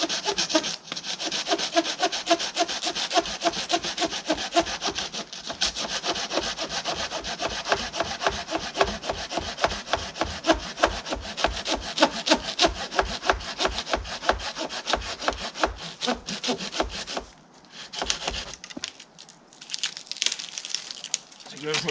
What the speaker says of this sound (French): regarde comment la scie coupe bien fait